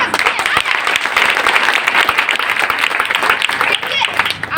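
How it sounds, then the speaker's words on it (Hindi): Audience applause fills a hall, with dense clapping from a crowd held at a steady level throughout, loud and close, with no break in the sound. "तालियां बजती हैं ना?"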